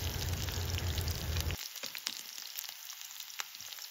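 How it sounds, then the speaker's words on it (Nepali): Onion and chili fry in hot oil, giving a dense crackling sizzle for about a second and a half before it drops away to sparse faint pops and clicks. "त्यसै गरी अलिकति प्याज राखेर फ्राई गर्नु होला।"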